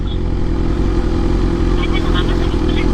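A big bike motorcycle engine runs steadily nearby with a low, constant rumble, carrying a passenger, while a faint voice can be heard over the drone.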